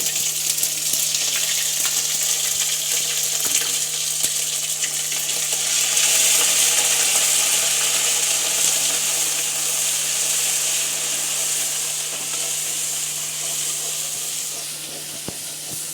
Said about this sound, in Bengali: আদা দিয়ে, রসুন দিয়ে, কাঁচা লঙ্কা দিয়ে পেস্ট করা 1 চামচ তেলের মধ্যে দেব।